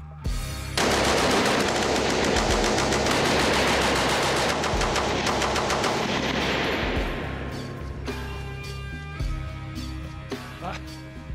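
A First World War machine gun firing rifle ammunition unleashes a loud, continuous rapid-fire burst lasting several seconds, then trails off into ringing echoes and a few scattered clanks.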